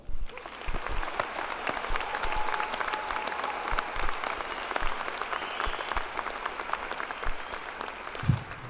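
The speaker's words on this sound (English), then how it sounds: "Let's give your family and friends a great big Husker round of" Sustained applause from a large university graduation ceremony audience, with dense, continuous clapping in a big hall, scattered sharper individual claps and occasional cheers rising above the steady roar.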